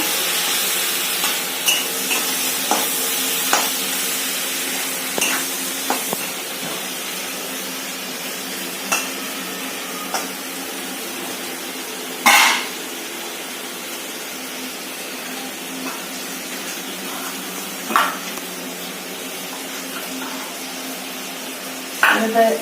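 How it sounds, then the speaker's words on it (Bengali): Spices with turmeric and garlic paste fry in a pan for a dried fish and eggplant dish, making a continuous close sizzle. Sharp clicks and scrapes of a spoon against the pan punctuate it. "হলুদ দিয়ে মশলা ভেজে নিচ্ছি"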